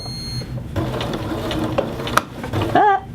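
A sewing machine stitches a man's shirt sleeve and runs over a pin, making a busy mechanical whir with a sharp click midway and a brief high squeal near the end.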